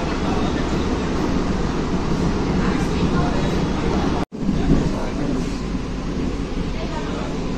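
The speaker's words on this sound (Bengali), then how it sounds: "বন্ধুরা, আমাদের ট্রেন এখন ক্রস করছে পায়রাডাঙ্গা স্টেশন, স্কিপ করলো স্টেশনটি" An EMU fast AC local train from Ranaghat to Sealdah runs through Payradanga station without stopping. A steady, loud broadband rumble fills the carriage, with a brief dropout midway before the noise resumes.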